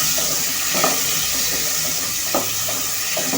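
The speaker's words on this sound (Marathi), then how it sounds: "टमॅटो पण आपण ह्याच्यात टाकणार आहोत आणि फ्राय करणार आहोत" Tomatoes added to onions frying in a pan for a dhaba-style gravy, a loud steady sizzle close by with a few soft stirring knocks.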